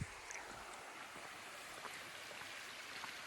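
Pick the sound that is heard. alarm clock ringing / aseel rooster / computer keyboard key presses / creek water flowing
creek water flowing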